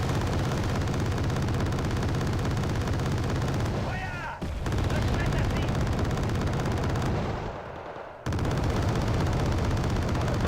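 Sustained, dense video game gunfire directed at the XC-186, a loud continuous rattle of shots with only brief dips, and a voice talking faintly underneath.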